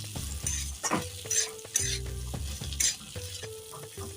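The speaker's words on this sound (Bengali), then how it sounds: "আমি আরও ভালো করে ভেজে নিচ্ছি" Broken wheat (dalia) pulao frying in a kadai on low heat while being stirred, with scraping spatula strokes and clanks against the pan over a constant sizzle, close and clear, with no talking.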